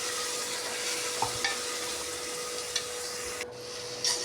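Spice paste frying with onions in a pan for egg biryani, a steady broadband sizzle with faint stirring scrapes and a few soft clinks, close and continuous with no talking.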